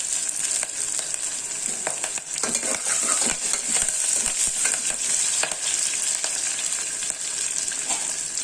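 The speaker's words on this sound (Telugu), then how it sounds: "వేడెక్కిన తర్వాత పోపు వేసుకోవాలండి. ఆవాలు, జీలకర్ర, మెంతులు, ఉల్లిపాయలు వేసుకోవాలండి." Mustard seeds, cumin, fenugreek, sliced onion and curry leaves sizzle and crackle steadily in hot oil, the frying close and loud for the whole stretch, with occasional stirring scrapes and no talk.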